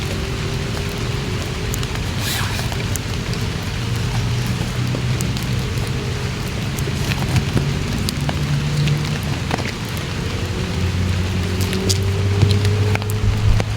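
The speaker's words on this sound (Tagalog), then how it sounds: "Umaambon, umuulan." Light rain drizzling over a farm field, a steady, even hiss of fine drops that holds unbroken throughout, with faint scattered ticks and a low background hum, no voices.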